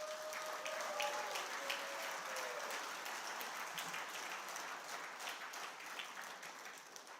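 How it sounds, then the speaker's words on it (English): Attendees at a bass fishing championship awards ceremony applaud the volunteers, a faint, steady patter of clapping from a crowd with a brief tonal sound early on and no speech. "Give a round of applause for them."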